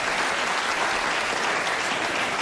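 A television studio audience applauds, a thick even burst of clapping that holds steady and close throughout without voices on top.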